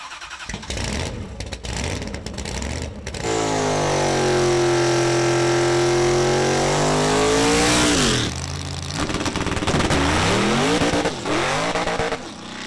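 A race car's engine revs hard and holds a high, sustained whine during a launch using a clutch controller, then drops and rises again in quick bursts, loud and close throughout with no talking.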